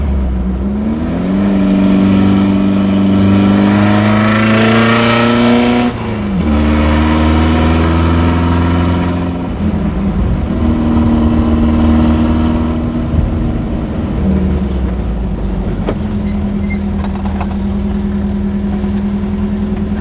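A car engine revs and climbs through several gears, pitch rising then dropping at each shift, loud and close for the whole stretch.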